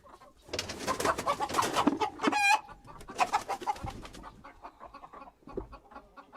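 Hens cluck and squawk close by in a coop of about 48 birds, a busy overlapping chorus of short calls with one rising cackle, thinning out toward the end.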